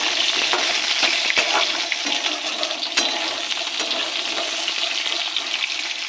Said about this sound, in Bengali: আলুটাকে দিয়ে দেবো আলুটা ভেজে আলুটাকে একটু লাল করে ভেজে নেব